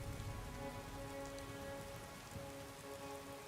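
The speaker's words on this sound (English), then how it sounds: "It is raining." Steady rain pattering on a surface in Skyrim outside Whiterun, a continuous dense hiss of drops with no voices, even and moderately close throughout.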